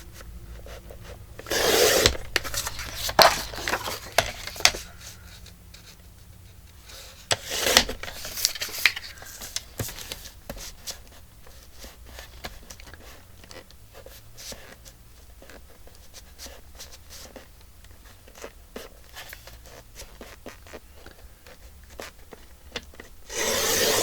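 Paper cards being cut apart at a craft table, a run of scraping, rubbing cuts and soft rustles, close and fairly quiet, with a few louder strokes early on and no talking.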